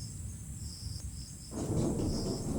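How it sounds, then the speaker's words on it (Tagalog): Low distant rumble of thunder swells up midway, rolling under a steady chorus of insects chirping in the background. "Nako, kumukulog."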